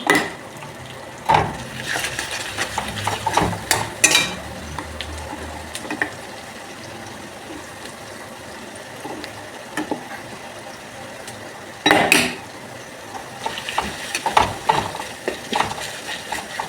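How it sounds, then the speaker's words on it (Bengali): Ginger garlic paste being stirred and fried with onions in a frying pan, a low sizzle under repeated scraping strokes of a utensil against the pan, louder bursts coming in irregular clusters. "পেঁয়াজ ভাজাটা হয়ে গেছে, এবার আমি আদা রসুনের পেস্টটা দেবো।"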